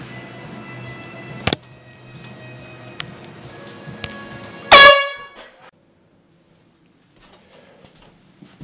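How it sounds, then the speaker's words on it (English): One loud, blaring air horn blast cuts in sharply near the end, preceded by faint clicks and a quiet room, then abrupt silence. "Don't do the air horn, I'll kill you."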